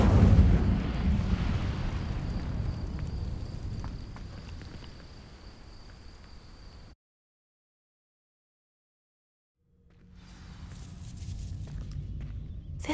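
Incendio fire spell cast in Hogwarts Legacy, a roaring whoosh of flame with crackling bursts that fades out, falls silent for a few seconds, then returns as a fresh rumbling blaze.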